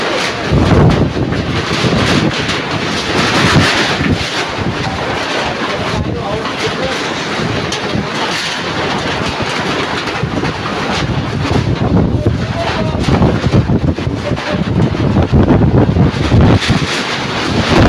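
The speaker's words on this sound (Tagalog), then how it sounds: "malakas ang hangin" Strong Typhoon Tino wind on an island, a loud, continuous roaring buffet of gusts with heavy microphone rumble, rising and falling in waves, while people talk loudly over it.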